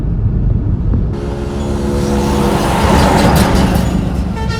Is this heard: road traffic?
yes